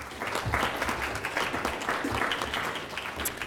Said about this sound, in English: I'd like to give a big round of applause to all the speakers